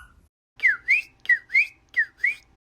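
A child whistles an imitation of a cardinal's song: six clear, sliding whistled notes in three quick pairs, close and alone against silence.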